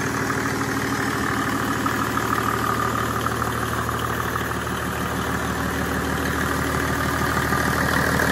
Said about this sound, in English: Perfectly smooth idle, beautifully phased and calibrated